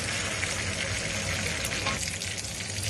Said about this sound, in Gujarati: પેલા મખના ફ્રાય કરવા ઘી નાખવાનું